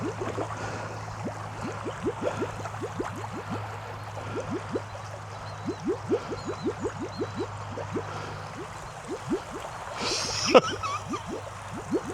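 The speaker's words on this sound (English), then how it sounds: "Oh, hear it bubbling here?" Floodwater bubbling and gurgling at a grate by a barn, a quiet run of rapid, irregular bubbling pops that continues steadily, with a brief louder splash near the end.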